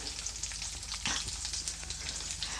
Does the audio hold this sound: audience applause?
no